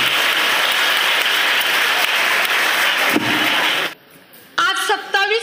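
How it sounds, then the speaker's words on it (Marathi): Loud, sustained applause fills a school farewell ceremony hall, then cuts off abruptly into near silence before a voice begins. "जोरदार टाळ्या वाजवायचे"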